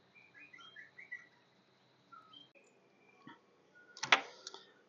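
Small birds chirp and twitter inside an enclosure with an airlock door, soft and fairly close in scattered short calls, followed by a few sharp clicking knocks.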